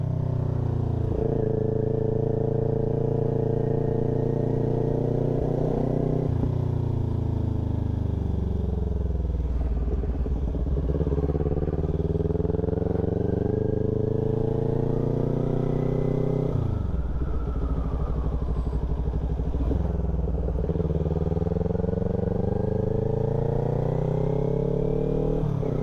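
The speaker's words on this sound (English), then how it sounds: "That was motorcycle number 3 I seen." A motorcycle engine passes close by, loud and steady, its revs rising and then falling away twice as it goes by, with no talking.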